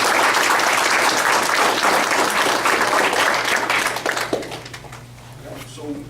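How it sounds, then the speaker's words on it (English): An audience applauds the speakers at a campus TRiO Day celebration. The clapping is loud, dense and sustained, then thins and fades over the final seconds. "Please join me in a round of applause for all our speakers."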